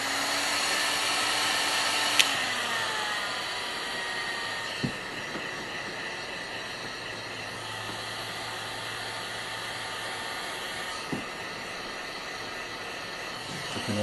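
A heat gun blows a steady, loud hiss of hot air over a Kydex holster, running continuously for the whole stretch with a few small clicks and knocks from handling the plastic, and no speech.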